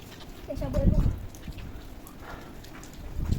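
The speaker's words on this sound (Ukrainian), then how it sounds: "а зараз почало на мене капати" Rain falling outdoors in a mountain area under low clouds, a soft steady patter of drops with faint wind noise throughout, and some brief low thumps near the start.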